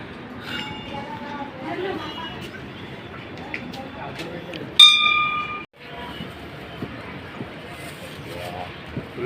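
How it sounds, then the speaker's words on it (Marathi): A train rumbles past at a distance near Mumbra Devi temple, with a sharp metallic squeal or horn blast midway and faint voices in the background. "इकडून ट्रेन येते"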